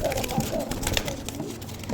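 Pigeons coo softly in a home loft, a few low murmuring calls close by amid a busy outdoor background.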